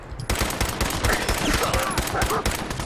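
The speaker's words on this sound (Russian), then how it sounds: "Я ему в голову выстрелил" Gunfire in the video game Fallout 4: a loud, rapid automatic burst of shots in a fast, even rhythm that runs nearly unbroken after a brief quiet start, with no talk over it.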